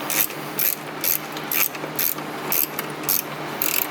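Ratchet wrench loosening a 7mm clamp on a charge pipe during a Weistec blow-off valve install on a Mercedes-AMG M133 engine, a series of about nine short, close clicking bursts in an even rhythm.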